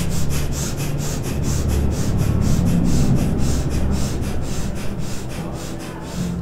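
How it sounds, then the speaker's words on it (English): Rapid, forceful nasal exhales of kapalabhati yoga breathing pulse in a quick steady rhythm, about two per second, close and loud throughout, with soft background noise beneath and no talking. "Kapalabhati means skull cleansing. And let's do 30 or so sniffs."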